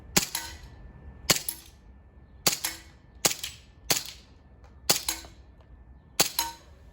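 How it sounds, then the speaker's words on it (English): A CO2 airsoft pistol fires seven sharp, loud shots on a range, spaced at irregular intervals about a second apart, each with a brief bright crack and short decay. "So first shot, as you can see, a lot of the gas put in a lot of power into the shot"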